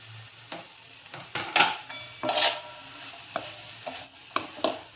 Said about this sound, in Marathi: आता कोथिंबीर आणि परतून घ्यायचे चांगलं.